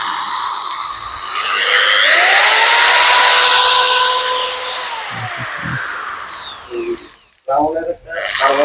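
A 420-watt, 10 mm TT1042 electric drill whines up in pitch as the trigger is squeezed harder, holds a loud, high spin, then winds down. Someone speaks briefly near the end.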